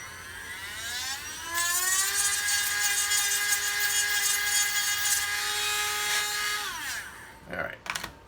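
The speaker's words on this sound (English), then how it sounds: "You grind a little bit, and then you try it, grind and try until that fits right in there" Small rotary grinding tool shaping a part to fit a 1/48 scale Lunar Module model, a high whine that rises in pitch, holds steady for several seconds, then winds down and ends in a few brief touches.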